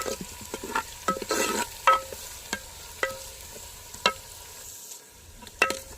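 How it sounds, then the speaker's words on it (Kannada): Onions frying in ghee for a fighter-chicken sukka are stirred in a pan. Sharp scraping clicks of the spoon land about every half second over a low, steady sizzle, close and fairly loud. "ನೀರುಳ್ಳಿಲ್ಲ ಇಕ್ಕಡಿ ಕಾಯಾಡು"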